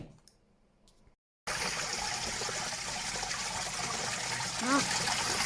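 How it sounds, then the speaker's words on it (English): Water trickling steadily as a koi pond EazyPod filter fills, a continuous close splashing flow beginning abruptly after a brief quiet pause with faint handling sounds. "EazyPod is filling up"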